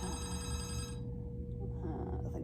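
A mobile phone rings steadily for about a second, then cuts off, leaving a quiet room with a low hum and faint background sounds.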